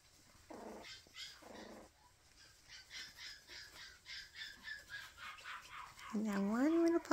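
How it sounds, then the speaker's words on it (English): A young Westie puppy in the background gives unhappy whines, yips and growly squawks in quick bursts, with a louder whining cry near the end, while a person talks nearby. "Now one little puppy in the background."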